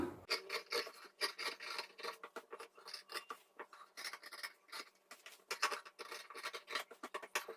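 Cloth for a chudidhar top is cut a quarter inch from the stitching, producing quick, rhythmic rasping cutting strokes close up that repeat steadily with no talk.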